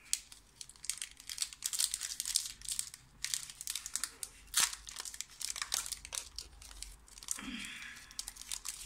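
A Pokémon trading card booster pack from the Breakthrough set is torn open, its foil wrapper crinkling and ripping in close, uneven bursts, with some faint talk mixed in.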